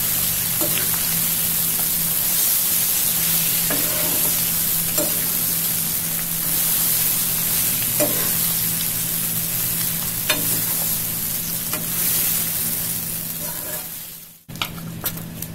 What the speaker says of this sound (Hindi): इसको हमने लो फ्लेम पे भून लिया है।